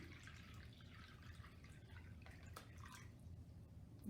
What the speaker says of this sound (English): And I'm just going to pour some water in.